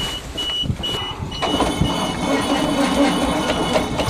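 A 427 engine just fired up after a long sit with choke and a little gas, running loud and rough with a steady mechanical roar that keeps on without a break.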